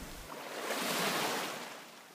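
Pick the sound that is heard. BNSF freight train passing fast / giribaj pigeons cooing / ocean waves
ocean waves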